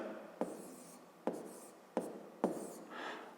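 A pen writes numbers by hand on paper: four sharp taps of the tip with soft scratching strokes after each, close and quiet.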